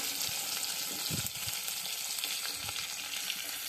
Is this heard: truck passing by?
no